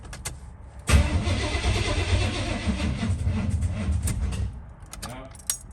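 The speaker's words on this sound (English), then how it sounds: "Let's see if it'll start off starter fluid." A 1989 Chevy Suburban rescued from a junkyard cranks on starter fluid, the starter grinding steadily for several seconds with the engine trying to catch, then dropping away; a voice is briefly heard near the end.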